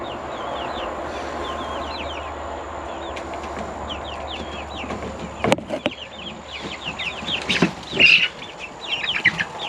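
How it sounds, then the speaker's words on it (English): Young guinea fowl keets and pullet chicks peep and cheep steadily in a pen under a heat lamp, with louder chirps and a few knocks toward the end. "we got 5 guineas in here and 6 pullets"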